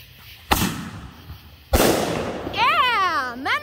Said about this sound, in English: Okay, this is a artillery right here.